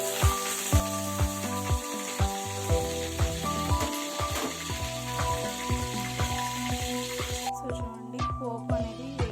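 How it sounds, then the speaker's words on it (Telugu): Tempering spices crackle and sizzle in hot oil in a pan while snake gourd fry is being made, a dense close hiss dotted with sharp pops, with steady rhythmic scraping or tapping over it throughout. "పోపు అనేది వేగిపోయిందండి"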